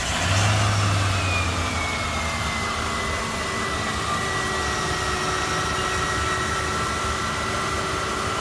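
A 2000 Lincoln Cartier cold-starts with a short starter whir, then the engine fires and settles into a smooth, steady idle that carries on evenly, with a faint high whine above it.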